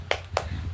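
A class clapping together for a rhythmic cheer in a primary school lesson, two crisp, soft claps about a quarter second apart over a low background hum.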